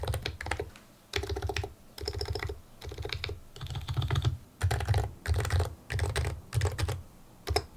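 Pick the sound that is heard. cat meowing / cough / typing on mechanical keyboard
typing on mechanical keyboard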